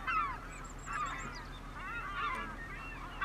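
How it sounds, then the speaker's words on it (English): A flock of seagulls in Farming Simulator 25 keeps up steady overlapping squawks and cries at moderate volume, with no voices over them. "Oh, those little seagulls are very loud"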